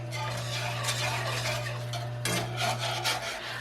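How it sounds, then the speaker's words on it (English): A spoon scrapes and stirs steadily around a pot of Guinness and beef stock gravy, a continuous raspy swishing with a low hum underneath and a few louder scrapes near the end. "I'm just going to stir this up until it gets nice and thick"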